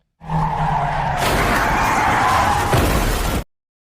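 A car skids with squealing tires and is deliberately rammed in a film crash scene, a loud continuous screech with a heavy impact near the end, then sudden silence.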